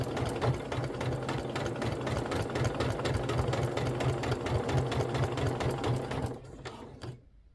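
A sewing machine stitches a curved quilting arc in a steady, fast mechanical chatter that runs close and continuous, then slows and stops near the end.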